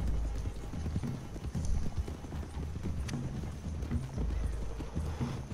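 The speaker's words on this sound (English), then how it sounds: "Love the horse." A horse's hooves clip-clop at a steady pace in the Red Dead Redemption 2 video game, close and continuous, with occasional whinny-like calls, some talk, and a low rumble beneath.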